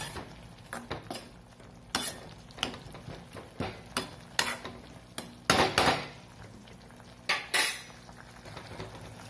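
Metal pots and utensils clank repeatedly in a kitchen, with sharp knocks and scrapes, one of them a lid set down on a pot of cooking drumstick-leaf greens.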